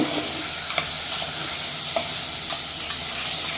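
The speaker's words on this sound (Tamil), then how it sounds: "பெரட்டி விடுவேன்" Chicken pieces with quartered potatoes and a sprinkle of salt are stirred in a hot pan, a steady sizzle broken by repeated scraping strokes of a spoon against the metal, close and alone.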